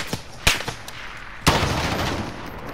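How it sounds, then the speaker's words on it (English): Gunfire in Call of Duty: Modern Warfare: a few sharp nearby shots ring out, one loud report standing out with a lingering echo in the open air. "I'm just gonna only shoot one bullet."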